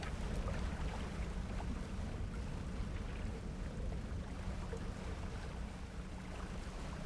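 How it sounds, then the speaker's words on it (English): Water sloshes and laps around a small fishing boat in the game DREDGE, a constant low wash with a breezy rush, steady and fairly quiet. "I still hear, like, water scuzzling about."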